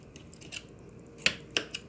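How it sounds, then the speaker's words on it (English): A knife cutting through the skin of a raw whole chicken gives a few faint soft snips and crackles, with two sharper clicks near the end, close by and quiet. "make sure it's cut through the skin"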